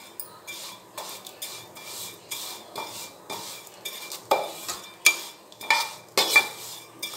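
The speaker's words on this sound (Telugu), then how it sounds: "కొంచెం గోల్డెన్ కలర్లో వచ్చేంత వరకు వేయించేసుకోండి." Vermicelli stirred in a pan over a low flame for semiya payasam, with repeated scraping and clinking strokes of a utensil on metal, about one every second, close and fairly loud, and no voices.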